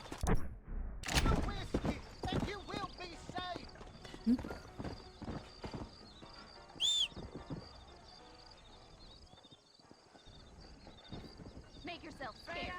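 Horse hooves clip-clopping in Red Dead Redemption, a steady close trot with a brief whinny, heard under someone speaking Portuguese and light game ambience.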